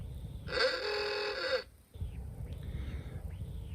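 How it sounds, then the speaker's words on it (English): The Old Car Horn ringtone plays on an iPhone 15 Pro as a single honk lasting about a second, loud and buzzy, followed by quiet with faint swooping scroll sounds. "Scroll down to old car horn."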